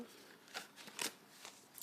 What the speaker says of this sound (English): I'll just shuffle the cards